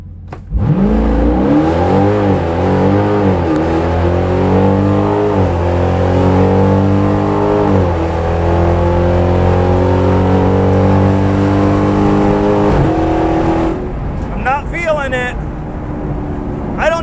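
A stock, naturally aspirated 392 Hemi car launches down a drag strip into a strong headwind. The engine roars loud and close, its pitch climbing through several gear shifts before easing off near the end.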